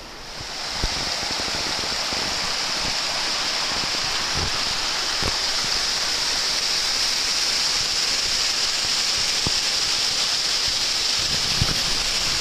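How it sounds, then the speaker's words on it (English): Steady, dense rushing of a waterfall in Miyazaki, Japan, a constant broadband roar with no voices. "At another waterfall, this one's really cool."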